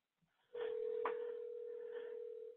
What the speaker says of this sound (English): I hear ringing.